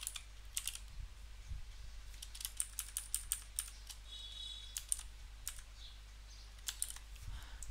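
Typing code on a computer keyboard, a steady run of quick, light key clicks with irregular bursts and pauses, close and fairly quiet over a low hum, no talk.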